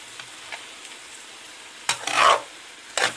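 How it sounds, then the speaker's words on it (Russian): Green beans stewing in a pan and being stirred, with a few scraping stirs and a bright sizzling burst near the end, close and fairly quiet. "Вот добавляем фасоль. И сейчас все вместе, это все хорошенько тушим."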